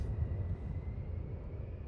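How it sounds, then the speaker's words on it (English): A low-flying airplane in SimAirport passes as a steady, low engine drone, fairly quiet and unbroken for the whole stretch, with no voices over it. "That plane got really low real quick."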